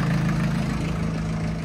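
A small tractor fitted with a rotavator idles on a weighbridge, its engine giving a steady low rumble with a faint knocking pulse, close and continuous.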